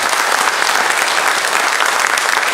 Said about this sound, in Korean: 우리가 큰 박수로 한번